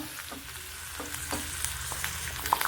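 Onion, garlic and ginger fry in hot oil for an egg gravy, giving a continuous, moderately soft crackling sizzle with faint scraping stirs and no talk.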